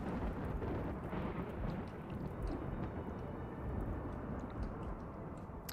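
Steady heavy rain with a deep rolling rumble of thunder in the colony game RimWorld, a constant low wash that stays fairly quiet and even throughout, with no voices.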